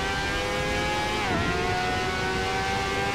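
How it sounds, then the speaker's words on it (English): Racing kart engine in the driving sim Assetto Corsa, a steady buzzing rev held high, then a quick dip in pitch as it shifts or lifts before climbing and holding again, loud and close throughout. "Maybe I'm letting it rev out a little too long"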